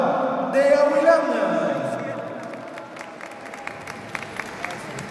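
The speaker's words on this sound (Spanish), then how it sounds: "Un fuerte, cariñoso aplauso para la Junta de Agua de Aguilana." A crowd at a dance and music festival for community water boards breaks into warm clapping and some cheering, strongest at first and then tapering into scattered claps, with a voice briefly heard at the start.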